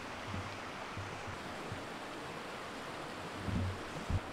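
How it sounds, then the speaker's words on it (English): A small, swollen stream rushes along continuously, a steady broadband wash of water heard up close with a few faint low thumps near the end. "took a clip of me going over this tiny stream, because I thought the water was kind of high"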